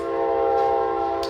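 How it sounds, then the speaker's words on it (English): A passing train sounds its horn in a long, steady, loud blast that fills the whole moment without a break. "You hear the train coming through."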